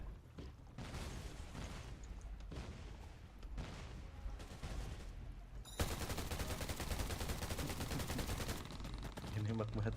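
Rapid gunfire in the online shooter Undawn, aimed at a rock: bursts of automatic shots that swell into a dense, continuous barrage, loud and close, with players talking over it.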